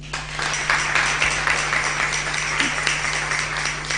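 A church congregation at a live Spanish-language Mass during a novena applauds steadily, dense clapping filling the space over a low electrical hum, without a break from start to finish.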